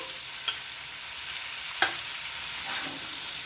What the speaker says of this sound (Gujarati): અને બરાબર એને ફરીથી મિક્સ કરી લઈશું